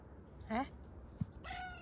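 A cat at home gives two short, quiet meows about a second apart, with a faint tap between them.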